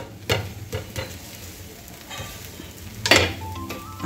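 A green moong dosa on a hot pan just after being flipped, with low steady frying and a couple of sharper scraping clatters from the spatula, close and moderately loud, with no talking.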